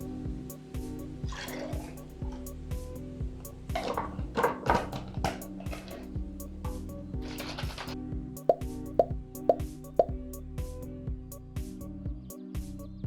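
Sangrita shaken in a cocktail shaker produces faint liquid sloshing and soft rattles in irregular bursts, then several sharp metallic knocks near the end.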